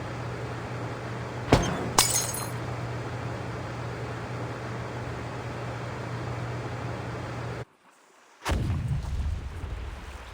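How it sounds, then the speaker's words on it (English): Two sharp, loud video game explosion blasts in Reverse: 1999 with a crackle of breaking debris, followed later by a brief dropout and then another heavy boom over a steady background hum. "Sounds like some kind of explosion near the clinic."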